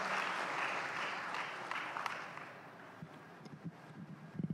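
Audience applause fills the room at a live Indonesian stage show, a dense, steady wash of clapping that gradually thins out into scattered, distinct claps toward the end.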